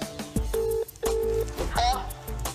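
Phone call dialed on speakerphone during a prank: a series of short tonal beeps of keypad dialing, a few sustained tones, over a room noise background with people present.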